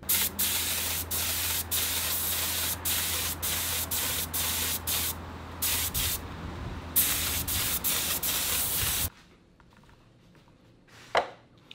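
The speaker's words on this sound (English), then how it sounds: "I'm gonna go ahead and spray in the first coat of liquid mask" Liquid mask sprayed onto an RC car body from an aerosol can: a long, loud, steady hiss broken by short pauses, then a brief final puff after a quiet gap.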